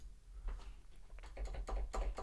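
Computer keyboard keys typed as MIDI input to trigger a hardware synth in FL Studio, heard as a rapid run of close, light clicks and taps, growing busier toward the end, over a low steady hum.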